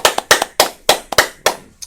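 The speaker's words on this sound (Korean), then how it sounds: "예, 박수" Studio clapping during a Korean money-talk broadcast: about eight separate hand claps in an uneven rhythm, sharp and close, with no talk over them.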